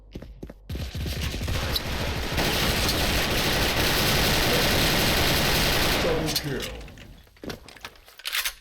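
Gunfire from the online shooter Special Force rattles in a dense, continuous burst of rapid shots lasting several seconds, loud and close, with someone talking briefly before and after the volley.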